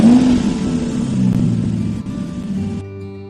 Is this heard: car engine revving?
yes